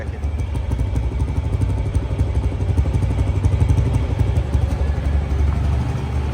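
Close by, a TVS Metro Plus 110 cc motorcycle idles with a steady, rhythmic low chugging and a faint metallic clatter, no voices.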